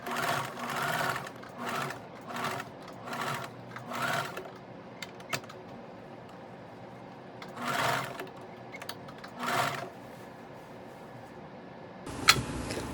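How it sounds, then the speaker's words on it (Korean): A sewing machine stitches along the waistline of a button shirt dress in repeated short bursts separated by pauses, near and fairly loud, with a louder burst near the end. "허리선을 따라서 박음질을 합니다"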